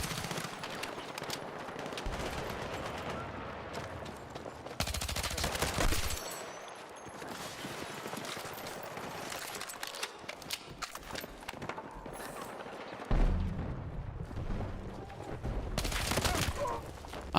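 Dense bursts of automatic gunfire and rapid single shots from a Battlefield 6 match, loud and close, with heavy thumps breaking in and short lulls between volleys.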